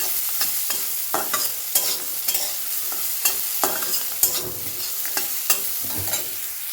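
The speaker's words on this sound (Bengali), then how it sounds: "তো এটা একটু নাড়িয়ে দিই, খুন্তিটা আবার এইখানে রেখে দিলাম।" Food sizzles and fries in a pan while a spatula scrapes and stirs it in a string of sharp, irregular strokes, close up and with no talking.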